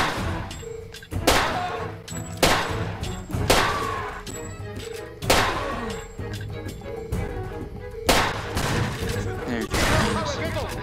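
Enemy gunfire in Far Cry 2 cracks in repeated loud bursts roughly every second or two, punctuated by heavy impacts, over a steady background of game noise and speech.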